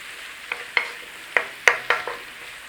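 Onions and dried thyme being stirred in a soup pot for potato and bacon soup: a handful of sharp spoon scrapes and knocks at uneven intervals, close and moderately loud over a soft steady sizzle.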